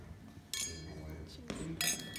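Glasses clink together in a toast at a Porsche Brand Academy graduation ceremony: a few bright, separate chimes and taps, close and fairly light, over a low background murmur.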